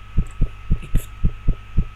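A steady, loud heartbeat thumps in a horror video game, about two beats per second with deep low pulses over a constant hum.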